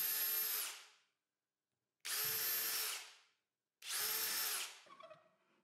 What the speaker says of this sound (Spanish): Realizo los agujeros con el taladro de columna con cuidado de no hacer los agujeros pasantes.